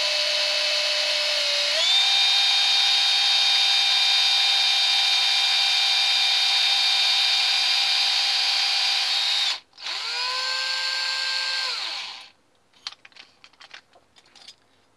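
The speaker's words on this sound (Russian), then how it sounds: "трубочкой просверливаем отверстие. Ну, вроде досверлились нормально." A power drill bores a tube-shaped hole through a wooden float blank with a loud, steady high whine that rises slightly in pitch. It cuts out briefly, runs again, then winds down, followed by a few faint clicks and knocks.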